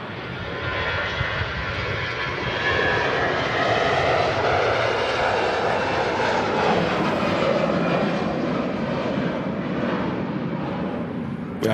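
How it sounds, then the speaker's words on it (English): A TUI Dreamliner taxiing at Manchester Airport gives off a steady, loud jet-engine roar that holds evenly for the whole stretch with no pauses. "We actually have a TUI Dreamliner taxiing out as well."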